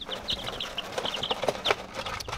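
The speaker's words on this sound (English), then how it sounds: "we hatched about 10 chickens" Young chickens cluck and peep in short, high, overlapping bursts close by, a busy little flock chattering without pause.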